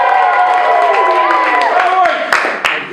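A theatre audience at an EOQ Fall 2013 stage show cheers loudly for sci-fi, a dense, sustained roar of voices and shouts that thins slightly near the end.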